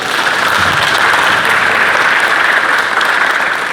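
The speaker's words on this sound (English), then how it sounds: "I appreciate the applause" Loud, dense applause from a community event audience, sustained clapping close by with no pauses and no talking over it.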